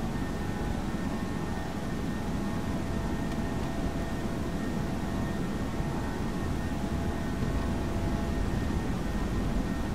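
Airliner engines spooling up to takeoff power in a flight simulator game, a steady broadband roar with faint tonal whine lines, even and constant with no talk.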